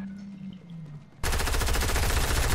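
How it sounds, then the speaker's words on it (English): Rapid automatic gunfire in a video game breaks in abruptly after a low hum and keeps going as a loud, continuous burst of shots until the end. "Someone shot at me."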